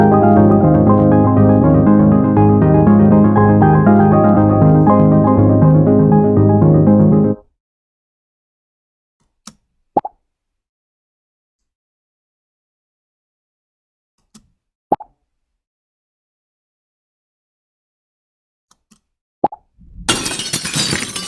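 A Scratch penguin game's sound effects: a looping tune plays and then cuts off, followed by several short, isolated pops for jumps and a final noisy crash burst when the penguin hits a rock.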